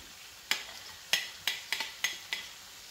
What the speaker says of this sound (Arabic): هلا بنفس الزيت رح قلي البصل